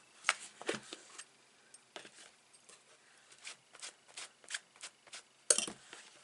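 Sheets of 12 x 12 designer series paper are creased and folded into a gift bag, giving scattered crisp crackles and rustles up close at a quiet level, with no talk.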